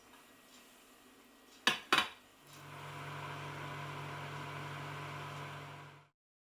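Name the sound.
covered dish put into microwave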